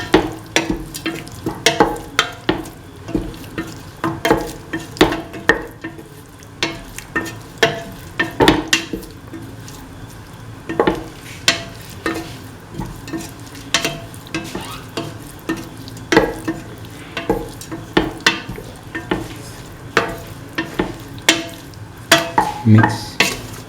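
Beef, ash gourd and coconut milk stew is stirred in a pan, with repeated clinking scrapes of a utensil against the pan over a soft sizzle, close and irregular.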